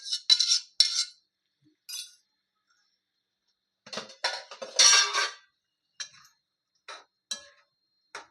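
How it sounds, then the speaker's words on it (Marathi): A small metal spoon clinks against a spice container while scooping spices in a home kitchen, in short bursts of sharp taps and scrapes with quiet pauses between. "छोटे चमच्याने काढते"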